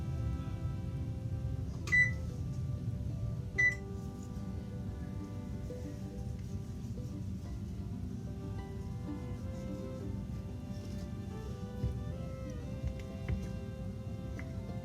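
An oven being set to preheat to 350 degrees: two short, high electronic beeps stand out over a steady low hum, with faint fainter tones later.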